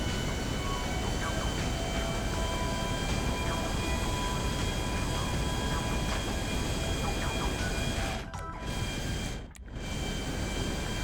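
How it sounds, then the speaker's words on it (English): A Grand Theft Auto V airplane with a critically smoking engine, one engine nearly gone, drones in a loud, continuous roar that briefly cuts out twice near the end like a sputter. "Michael attempts to stabilize his plane when the engine is critically smoking."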